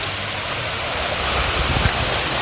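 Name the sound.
waterfall flowing at Malshej Ghat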